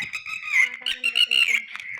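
A bird squawks on a farm with sharp, repeated harsh calls close by, several bursts over two seconds with no talking.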